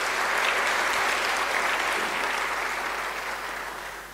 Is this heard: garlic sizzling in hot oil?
no